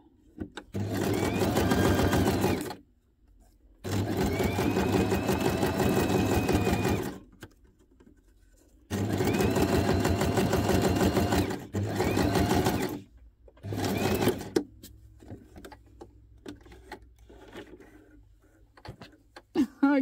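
Close, loud bursts of a sewing machine straight-stitching tiny paper scraps, running in several long runs of a few seconds each with short pauses between, then shorter stops and starts toward the end.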